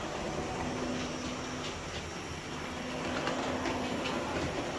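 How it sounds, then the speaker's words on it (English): Model railway trains run smoothly along a layout, giving a steady, continuous rolling whir and faint rail clatter throughout, with no talking. "finish off with these trains going by"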